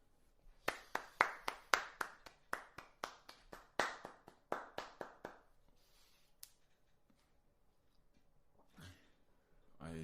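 Roughly twenty sharp hand claps ring out in a quick, fairly steady rhythm, close and loud, then stop, followed by quiet room sound and a brief faint voice.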